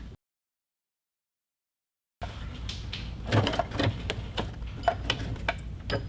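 After a stretch of silence, a sewing machine works a back stitch through a Kraft-Tex tote bag, giving a close series of irregular mechanical clicks and taps with low motor hum beneath.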